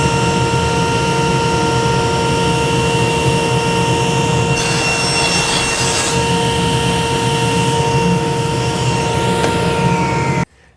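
A table saw hums steadily as it rips a wooden workpiece guided by a GRR-RIPPER push block. A louder, rougher cutting burst rises midway through, then the motor keeps whining alone.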